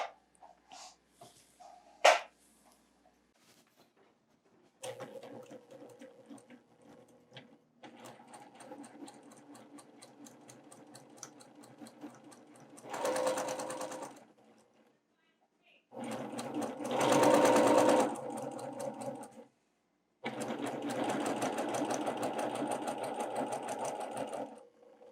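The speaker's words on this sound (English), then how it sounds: "we're going to go ahead and sew a 1/4 inch seam" A sewing machine sews a quarter-inch quilt seam in several bursts of close, rhythmic whirring separated by pauses. A person talks quietly at the start and between the runs.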